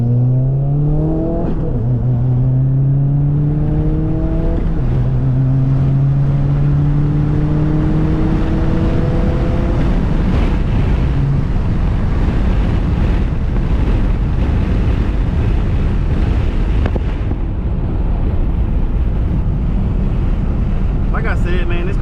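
A 2018 Subaru WRX accelerates hard through the gears, its engine note climbing in repeated rising sweeps with shift breaks, then settling into loud, steady road and wind roar from inside the cabin.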